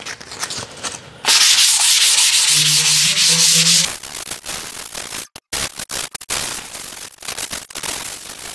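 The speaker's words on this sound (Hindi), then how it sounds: "पुट्टी के दो बेस हो चुके हैं और इस पर अब सैंडिंग हो गई है।" Sandpaper rubbing over dried wall putty being smoothed before primer, in loud abrasive strokes, one long continuous pass followed by shorter broken scrapes, close up with no talk.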